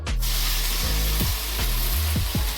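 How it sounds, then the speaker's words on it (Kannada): Fenugreek, mint and coriander greens sautéing in oil in a pan give a steady close sizzle, with a few soft stirring scrapes of the spoon against the pan. No voices. "ಪ್ಯಾನ್ಗೆ ಸ್ವಲ್ಪ ಎಣ್ಣೆ ಹಾಕಿಬಿಟ್ಟು ಇವಾಗ ನಾನು ಸೊಪ್ಪು ಹೇಳಿದ್ನಲ್ಲ, ಮೆಂತೆ, ಪುದೀನ, ಕೊತ್ತಂಬರಿ ಅದನ್ನು ಕೂಡ ಬಾಡಿಸ್ಕೋಬೇಕು."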